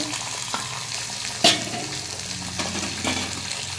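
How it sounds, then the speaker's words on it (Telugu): Curry leaves, onion, tomato and green chillies sizzle in a pan for a spinach curry, a close, steady frying crackle with a sharp spatula clank and soft stirring scrapes. "కరివేపాకు ఉల్లిపాయలు ఒక్క టమాటా నాలుగు పచ్చిమిర్చి ఒక్క ఉల్లిపాయ ఇందులో వేసుకోవాలి"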